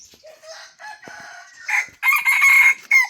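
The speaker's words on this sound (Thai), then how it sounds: "ตื่นมากับเป็ดกับไก่พี่น้อง" Chickens cluck softly before a rooster crows loudly nearby, a drawn-out call standing alone.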